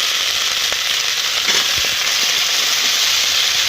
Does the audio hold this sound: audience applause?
no